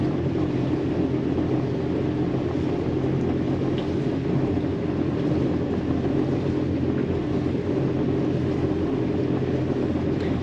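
A Yamaha boat's engine idles with the blower switched off, producing a steady low drone that stays even and unbroken throughout, with no voices.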